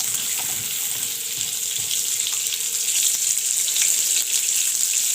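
Vermicelli browning in melted butter in a pot gives off a loud, bright, continuous frying hiss close up, steady throughout with faint stirring scrapes and no talking.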